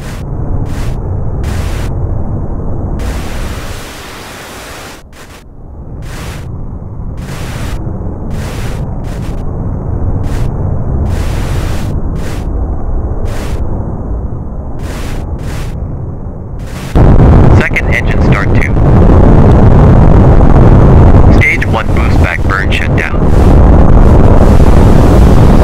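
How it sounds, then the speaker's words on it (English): Second engine start of a rocket in the Spaceflight Simulator game: a steady broadband engine roar that drops briefly, then swells louder with crackling bursts for the remaining stretch, with no talk. "We're going to do SES2, or second engine start 2,"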